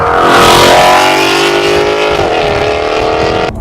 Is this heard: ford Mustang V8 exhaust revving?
yes